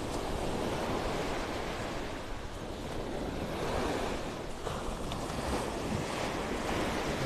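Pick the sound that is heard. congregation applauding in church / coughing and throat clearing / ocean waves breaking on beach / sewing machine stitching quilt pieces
ocean waves breaking on beach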